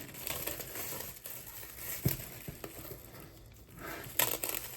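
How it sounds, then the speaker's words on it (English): Crinkling and crackling plastic with a few sharper rips, handled up close over a steady background hiss. "Tear the plastic off here."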